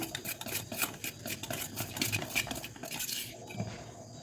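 A spoon stirs salt into gram flour batter for onion-potato bhaji, clinking and scraping against the bowl in a quick, steady rhythm, close and moderately quiet.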